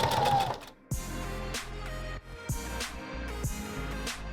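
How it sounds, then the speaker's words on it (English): A sewing machine stitches a fly front zipper: a loud, close, steady mechanical whir that starts and stops in several short runs, no talking. "So I'm just going to stitch right here."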